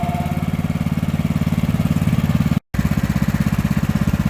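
The engine of a Snowrator ride-on snow blower runs close and loud at a steady, rhythmic idle, interrupted by a very short cut of silence before the running continues.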